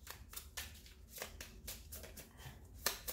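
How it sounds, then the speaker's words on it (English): A deck of tarot cards is shuffled by hand, producing a run of soft riffling and slapping bursts at an irregular rhythm, close and fairly quiet, with no speech over it. "I'm shuffling them out just a little bit more."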